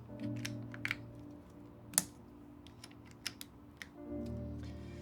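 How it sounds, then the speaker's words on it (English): Mechanical keyboard typing on a Forever65 board with TX AP stabilizers, sparse individual keystrokes including a few sharp, clacky space bar hits, close and fairly quiet over a low steady hum, with no talking. "These are the TX AP stabs, which I think are my favorite right now. Perfect. Listen to that space bar."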